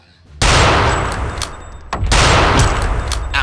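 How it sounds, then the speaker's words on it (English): Two loud, sustained bursts of gunfire from a gun in Return to Castle Wolfenstein, close and heavy, separated by a brief gap. "I have three bullets left in this gun."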